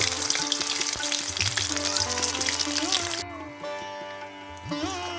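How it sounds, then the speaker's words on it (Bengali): Poppy seed fritters shallow-fry one by one in oil over a low to medium flame, a busy close sizzle under tonal background sounds, thinning out near the end. "লো টু মিডিয়াম ফ্লেমে বড়াগুলো আমি এক এক করে ভেজে নেব।"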